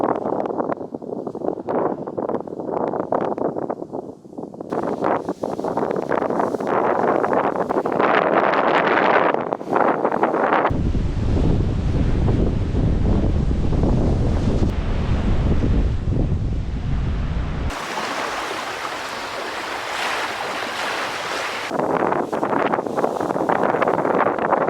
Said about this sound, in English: This small stretch of beach is Spoon Rocks.